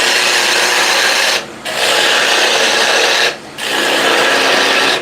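Spindle gouge cutting away timber on a spinning wood lathe, a loud continuous rasping hiss broken by two brief pauses as the tool lifts off the wood.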